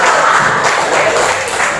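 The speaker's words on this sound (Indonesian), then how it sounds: "beri aplaus buat temannya" Classroom of students giving a short burst of dense, loud applause for a classmate, steady and close throughout.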